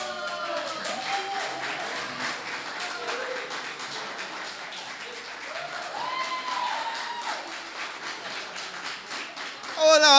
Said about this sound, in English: Oh, no, y'all not gonna clap now. Oh, no, don't clap now.